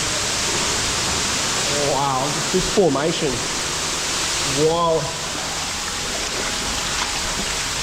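Inside a cave in Bali, a loud waterfall pours with a steady, broadband rush throughout, while a man exclaims a few times over the constant roar.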